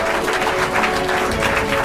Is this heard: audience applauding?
yes